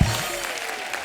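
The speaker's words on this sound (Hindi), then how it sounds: "आइए जोरदार तालियां हो जाए" A studio audience on a comedy show applauds a guest, a brief burst of clapping that starts with a thump.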